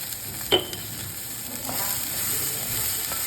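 Grated coconut thoran fries in a pan while being stirred, a soft continuous sizzle with a single sharp utensil tap near the start.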